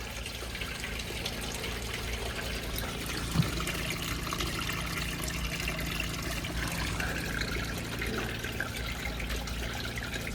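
Water drains from the pipe section of a large backyard chicken waterer, a steady close trickle and gush running continuously without a break, with no talking.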